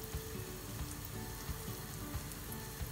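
Hot oil sizzles and crackles steadily as bread rolls fry, a dense, even frying hiss with small pops scattered throughout and no voices.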